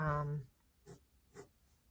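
A pencil makes two short, crisp strokes on paper, sketching the fluted lines of a cupcake wrapper; a voice talks briefly just before the strokes.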